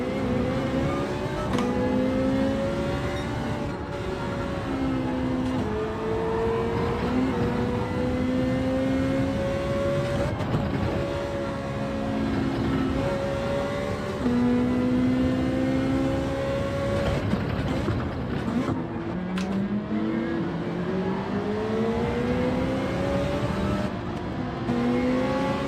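A Nissan Sylvia race car in Gran Turismo 7 on the Laguna Seca circuit accelerates hard, its engine note climbing through repeated gear pulls with other cars droning close behind, loud and continuous without talk.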